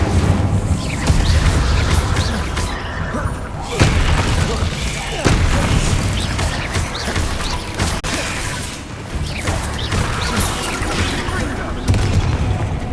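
Incendio fire spell cast in Hogwarts Legacy on PS5, loud booming fiery bursts and whooshes layered over dense game combat noise, repeating several times across the stretch.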